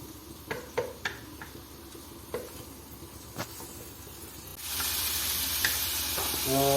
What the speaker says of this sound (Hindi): और ये प्याज लाइट ब्राउन हो गया।